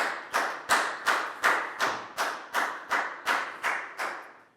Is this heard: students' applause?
yes